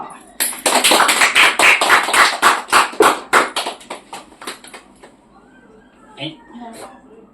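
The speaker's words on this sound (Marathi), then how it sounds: "टाळ्या" An audience at a magic show claps in a burst of quick, rhythmic applause that fades out after a few seconds, followed by a brief voice.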